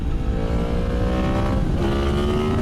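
A ZX14R or MT-10 sport motorcycle with a changed sprocket accelerates hard in third gear, its engine note climbing steadily in a loud, continuous roar close to the rider, with wind noise underneath.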